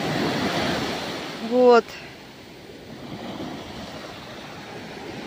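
Sea waves wash onto a Turkish shore with a steady rushing surf and wind noise close to the microphone, broken by a brief loud whistling burst, while someone speaks briefly.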